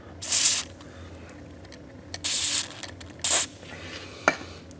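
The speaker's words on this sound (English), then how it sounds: "I'm just going to hit that with a little bit of lithium grease here" Lithium grease sprays onto garage door roller bearings in three short hissing bursts, each about a third to half a second long, separated by quiet gaps, with a small click near the end.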